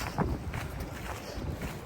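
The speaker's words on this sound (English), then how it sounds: "It's super windy" Strong wind buffets the microphone in a constant low rumbling roar, with gusty surges and no other clear sounds, on a cold, windy hike to Bald Knob.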